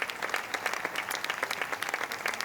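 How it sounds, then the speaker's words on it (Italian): Applause from an outdoor audience at an evening event in Piazza Manzoni, Jesolo, honoring the organizers: dense, steady clapping of many hands, fairly distant and even throughout, with no voices rising above it. "vi chiedo di fare un grandissimo applauso a loro"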